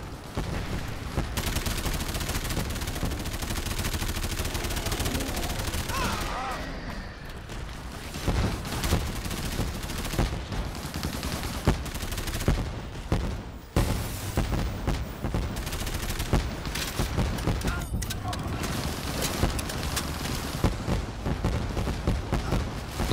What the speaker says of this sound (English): I got demoted by machine guns, man.